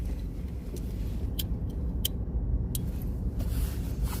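A truck engine idles steadily after start-up, a low continuous rumble that sounds smoother and quieter, with a few faint clicks and ticks on top and no talking.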